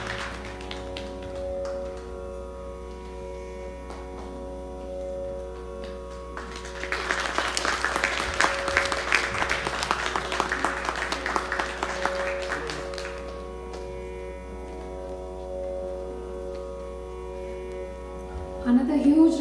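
Applause at a music academy fundraiser concert with young performers swells for several seconds from a moderate audience, then fades back into a quiet hall with a faint hum.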